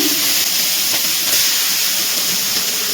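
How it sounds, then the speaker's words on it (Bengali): Chopped onion, one medium onion cut small, drops into hot oil in a home kitchen while cooking chicken masala, giving a loud, steady, close hiss of sizzling that runs unbroken throughout. "এবার দিয়ে দিচ্ছি কুচানো পেঁয়াজ"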